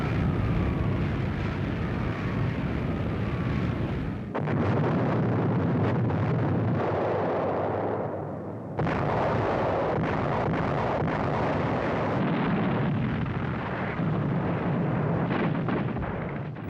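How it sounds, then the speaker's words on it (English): Aerial bombing of the historic hilltop monastery on the summit, a continuous heavy rumble of explosions with roaring, wind-buffeted bursts that swell and fade through the whole stretch. "In desperation, the Allies bombed the historic monastery on the summit."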